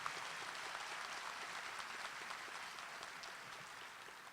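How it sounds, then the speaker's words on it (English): An audience at a university commencement applauds the faculty with steady, even clapping that sounds distant and fairly faint, continuing without a break. "Please give them a round of applause."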